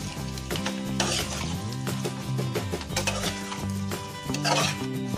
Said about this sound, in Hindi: अब इसमें हम आलू डाल लेंगे और इसको भी मिक्स कर लेंगे।